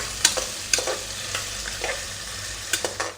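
Mixed vegetables and mint leaves for pulao fry in a pan, a steady close sizzle punctuated by repeated scraping taps of a stirring spoon.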